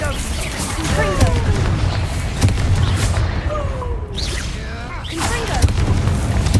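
Confringo and Bombarda spell explosions in the video game Hogwarts Legacy: a dense run of booms and crackling bursts with whooshing game effects, while voices talk over the busy mix.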